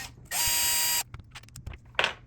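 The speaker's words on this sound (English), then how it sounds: "Take those bolts out." A ratchet wrench works bolts loose on a buggy being repaired after a 70 mph tumble: a loud, steady buzzing burst of about a second, then scattered short clicks and one more sharp burst, heard up close with no talk.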